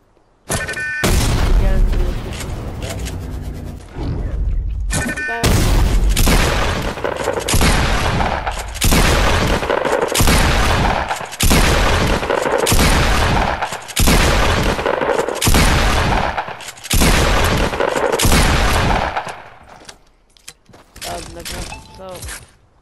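Gunfire and grenade blasts in a shooter video game crack and boom in dense, rapid bursts for most of the stretch, loud and close, easing into scattered shots near the end.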